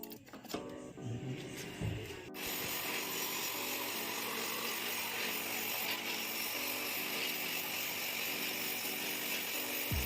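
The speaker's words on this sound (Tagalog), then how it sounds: "tinatanggal namin yung magneto, tapos kinaka-brush namin para matanggal yung mga kalawang" A power-driven cup brush grinds rust off the magneto of a Honda ADV150 scooter in a workshop. After a few seconds of rattling it settles into a loud, steady whirring abrasion that runs to the end.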